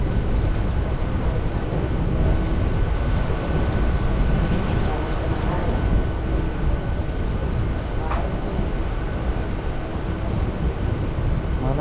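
Steady, loud rolling rumble from inside a small Hyderabad MMTS local commuter train running on its route, a dense continuous drone with faint rattles and a brief sharp clink near the end.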